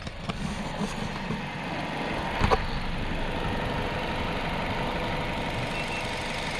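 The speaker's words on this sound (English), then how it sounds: "so we got the engine running" A car engine idles steadily nearby with a low, even rumble. A brief knock or clunk breaks in once midway, then the idle continues unchanged.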